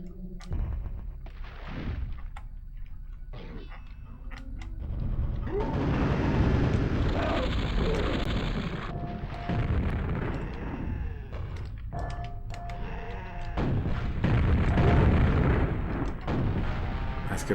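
Grenade explosions in Quake on the N64, repeated booming blasts over continuous game noise, some louder bursts close together and others spaced out.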